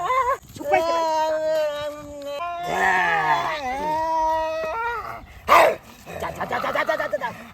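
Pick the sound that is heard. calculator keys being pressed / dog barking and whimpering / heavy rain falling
dog barking and whimpering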